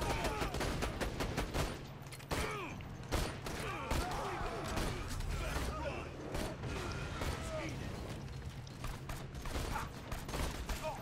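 Pistol gunfire in Borderlands 2 on True Vault Hunter Mode, with constant overlapping shots, cracks and weapon effects in a busy firefight, while players talk over the action.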